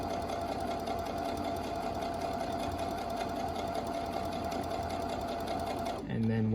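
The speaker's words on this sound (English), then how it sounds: "And you're just gonna keep sewing down." A sewing machine stitches steadily over elastic on a cloth face mask, giving a fast, even mechanical whir with a rapid needle rhythm. It runs close and continuous, then stops abruptly near the end.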